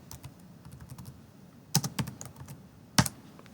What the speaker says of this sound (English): So we're going to go ahead and type that out.